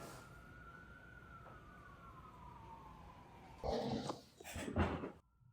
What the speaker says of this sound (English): there's a lot of sirens. I don't know if you can hear them.